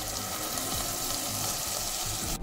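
Fish curry paste frying in a pan over reduced heat, a steady close sizzle and crackle with faint stirring, cutting off abruptly at the very end.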